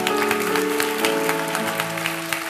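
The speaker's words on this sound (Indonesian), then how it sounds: "Kasih tepuk tangan untuk Tuhan Yesus." Church congregation applauding during a sermon, a continuous wash of clapping from many hands over a steady sustained musical tone, with no clear talking.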